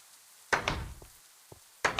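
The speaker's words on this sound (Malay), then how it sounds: "Siapa yang main pintu tak habis-habis tu?" Heavy, loud bangs on a door strike repeatedly close by, a booming thump followed by smaller knocks and then another hard hit, with no voices.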